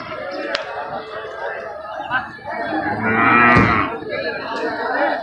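A dairy cow at a cattle market, a 15-litre milking cow, lets out one loud, drawn-out moo close by, over steady crowd chatter and background voices.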